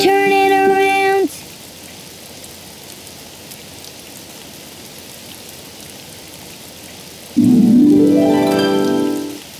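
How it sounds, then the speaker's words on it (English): Steady rain falls outside as a soft, continuous hiss, framed by brief bursts of tonal music at the start and end. "it's raining outside"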